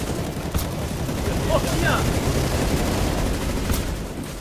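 Dense, continuous gunfire and explosive bursts from a hardcore survival shooter game fill the whole stretch loudly, with a player shouting an exclamation over the din.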